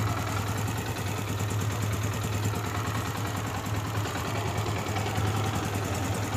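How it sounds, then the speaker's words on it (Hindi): A 2005 Honda CG125 motorcycle engine idles steadily and close by, a continuous low rumble with a fast, even ticking pulse throughout, no voices. "बाइक के इंजन की भी साउंड सुनेंगे, साइलेंसर को और"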